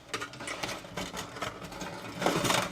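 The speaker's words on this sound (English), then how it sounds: "grab your deburring tool, run that around a couple of times" Quick rhythmic scraping bursts of a deburring tool run around a hole in fuel system work, close and fairly faint, several short passes in a row.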